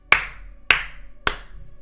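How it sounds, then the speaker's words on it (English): Three sharp hand claps, evenly spaced about half a second apart, loud and close with no talk around them. "3 claps."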